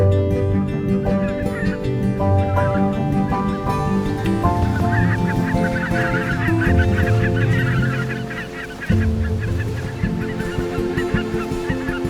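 Geese honking as a large overwintering flock on flooded wetland, a dense, continuous chorus of many overlapping calls, loud and close, with no talk over it.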